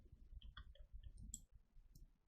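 A computer mouse clicks several times in quick, quiet succession during spreadsheet work, the small taps sparse and close against a faint room background.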